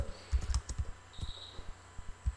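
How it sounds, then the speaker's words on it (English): Keys tapped on a computer keyboard while an answer is typed into a quiz, coming as a quick irregular run of close, fairly loud clicks with brief pauses between bursts. "here I try to type the answer"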